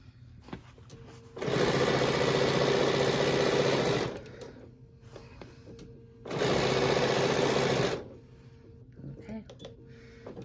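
A sewing machine runs two steady bursts of serpentine stitching on a Christmas advent calendar fabric panel, each lasting a couple of seconds with a quiet pause between, close and loud.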